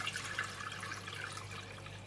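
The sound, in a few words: pouring chicken stock into a pot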